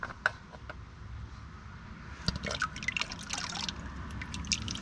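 Thin dripping and trickling liquid beneath a 2022 Ford Maverick EcoBoost just after its oil pan was drained, small irregular drops over a steady low background, close by and moderately quiet.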